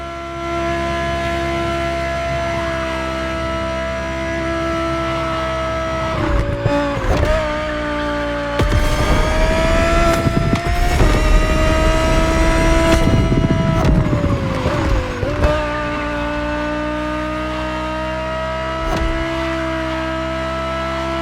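A 2020 Audi R8 LMS GT2 race car in The Crew Motorfest howls with a steady high engine note, shifting gears and revving harder around the middle before settling back to a sustained drone, loud and close with no talking.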